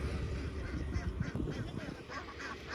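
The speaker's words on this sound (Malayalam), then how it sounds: "ബാവേ, ടോട്ടൽ ഒരു എത്ര താറാവ് കാണുമോടി ഇവിടെ?" Ducks quack in a low, scattered chorus against steady background noise, with no talking.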